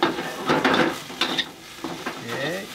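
Green beans and thinly sliced carrots stir-fried for Indonesian nasi goreng, a close, steady sizzle and scrape of a utensil against the pan in several bursts, with no talking.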